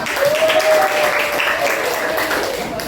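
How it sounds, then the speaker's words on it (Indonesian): Classroom audience clapping in a continuous wash, with a voice speaking over it early on before the applause carries on alone. "Berikan tepuk tangan ya."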